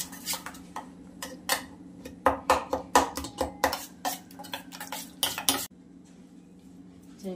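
Potatoes being mixed with homemade masala and coriander powder in a pot, a rapid run of metallic spoon clinks and scrapes against the vessel, close, ending abruptly into quiet.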